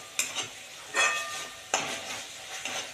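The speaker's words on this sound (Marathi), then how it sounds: "ग्रीन चिली सोया सॉस आपण ॲड केलेले आहे, त्यामुळे आपण परतून घेऊया." Soya chunks being sautéed with green chili sauce and soy sauce in a pan, a spoon stirring in three distinct scraping bursts over a soft sizzle, close and fairly loud with no talking.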